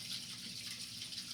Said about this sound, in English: as the water runs down from my laundry